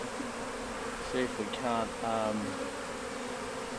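Bees being rescued from a telecom site hum in a continuous close buzz while a person speaks softly over them.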